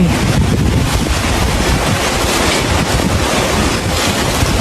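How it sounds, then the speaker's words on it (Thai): Strong, gusting wind roars steadily across a microphone outdoors in a forest at night, a dense, continuous rush with no voices. "ลมแรงขึ้นมาเลย พี่ นู่น มีลมกระโชกด้วยเฮ้ย"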